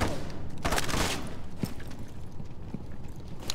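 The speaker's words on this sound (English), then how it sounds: "I can shoot now." Gunfire in the tactical shooter game Rainbow Six Siege, a quick burst of sharp shots early on followed by a few scattered single cracks, loud and close against a constant game background.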